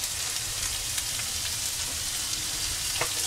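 Tomatoes added after garlic sauté in a pan for mung bean stew with bagnet, producing a soft, steady, rain-like sizzle with faint stirring ticks and no voice.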